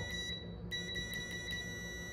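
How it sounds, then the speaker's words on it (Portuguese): A high, steady electronic continuity beep from a Sunshine DT-17N digital multimeter sounds continuously after a brief break near the start, piercing and insistent. "E o BIP desse multímetro, ele é bem alto"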